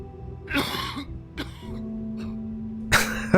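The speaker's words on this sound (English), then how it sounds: "Why is he coughing?" Several harsh coughs and throat-clearing bursts from a video game character in The Wolf Among Us come in irregular spurts, close and loud, over a low steady hum.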